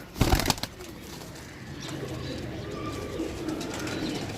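Pigeons kept at a rural loft burst into a brief, loud flurry of flapping wings up close, then settle into a soft, continuous murmur of cooing in the background.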